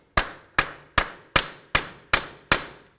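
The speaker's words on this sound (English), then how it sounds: "Use a hammer and punch to break this free." Seven sharp metallic hammer blows on a punch, breaking free a 34mm axle nut on a 2000-2005 Buick LeSabre, evenly spaced about every 0.4 seconds, loud and close with brief ringing after each hit.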